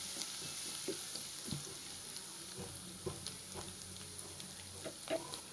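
Chopped onions fry in hot oil for a fish curry with potatoes and pointed gourd, a faint, steady sizzle with small pops and occasional stirring scrapes, no talking.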